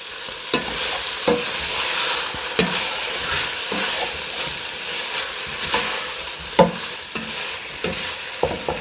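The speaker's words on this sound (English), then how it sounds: "So I'm gonna stir this around and give it a good 30 to 45 seconds to get nice and fragrant" Garlic and rosemary sizzle steadily in a pot while being stirred, with a broadband frying hiss broken by several sharp scrapes and clinks of a utensil against the pot, no one talking.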